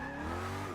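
A Koenigsegg One:1 with over 1,000 horsepower drifts in Forza 6, its tires squealing in a sustained, loud tonal screech over engine drone for under a second.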